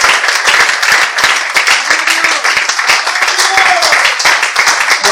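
A church congregation claps during a Spanish-language service, loud and close, with dense uneven clapping and some voices mixed in.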